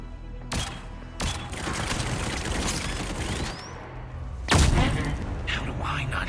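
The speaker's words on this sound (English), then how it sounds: "this thing is unlike shooting any other gun" Sharp gunshots from a Staccato pistol with a compensator, two close cracks early, then a louder report near the end, each ringing out over continuous background noise.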